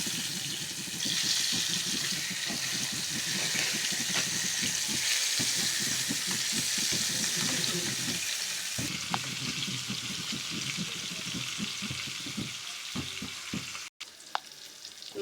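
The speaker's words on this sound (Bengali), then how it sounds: "তেলটা গরম হয়ে গেছে, এখন মাছগুলা দিয়ে দেব।" Fish, hilsa among them, fries in hot oil, a loud continuous sizzle with crackles and occasional stirring or utensil clatter, briefly cut off near the end.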